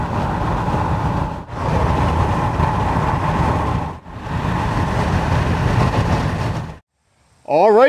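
Van driving on the road: a steady, loud engine and road rumble that dips briefly twice, then cuts to near silence with a short whistling chirp at the end.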